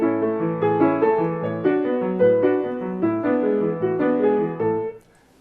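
A melodic passage played deliberately unevenly, so the second sixteenth note of each group sticks out of the texture; sustained pitched notes move in a steady rhythm, close and fairly loud, then stop abruptly.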